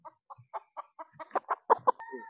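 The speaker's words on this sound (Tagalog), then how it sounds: "Ito po isang Boston Gal na manok." A Boston Gal gamecock clucks repeatedly in short, evenly spaced bursts, quickening toward the end; close and fairly quiet with little else around.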